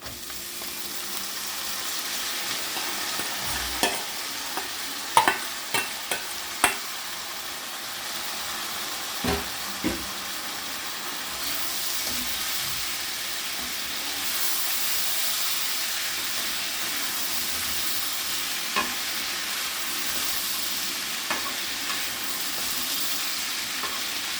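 Ivy gourd and boiled coconut fry with browned onions while being stirred. A steady sizzle runs throughout, with a cluster of sharp spatula clacks early on and scattered knocks later.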